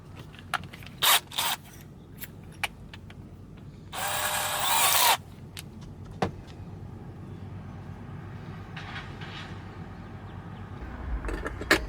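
A short, high-pitched whirring burst of a small power drill boring a hole in plastic on a 2015 Cadillac Escalade runs for about a second amid scattered clicks and handling noises.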